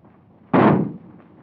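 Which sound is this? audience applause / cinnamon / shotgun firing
shotgun firing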